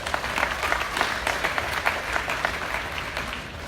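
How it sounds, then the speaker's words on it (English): Crowd at a livestock show arena clapping for a young goat exhibitor at a national show, steady, fairly dense applause that holds for a few seconds without talk. "Give Sydney a big round of applause."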